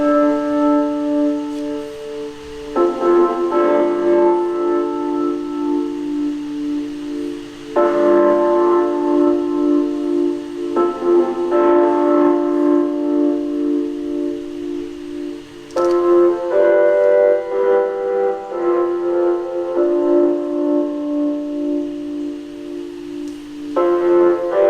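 Chord progression for a tribal Latin house track played on a laptop, sustained bell-like synth chords shifting every few seconds in a slow, repeating sequence, steady and alone.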